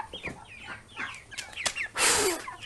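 Broiler chickens clucking close up in a crowded house, a dense run of overlapping clucks and chirps, ending in a louder broad rushing burst.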